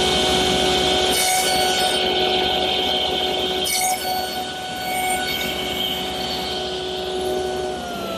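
A table saw with its miter gauge set at 12 degrees nibbles wood away for a tenon on a garden armchair armrest, a loud steady motor whine broken by two short bursts of harsher cutting.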